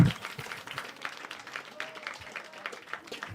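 Comedy club audience in Liverpool applauding as a stand-up comedian is introduced, a steady patter of clapping with scattered cheers, moderately loud and continuous throughout.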